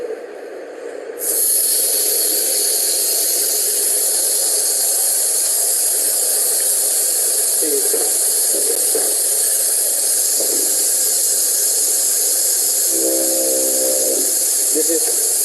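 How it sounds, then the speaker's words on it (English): Compressed air ejects freshly printed parts inside a pneumatic post-processing unit for SLS or SLM printing. The loud, steady hiss starts after a moment and carries on without a break, with faint voices briefly under it. "compressed air."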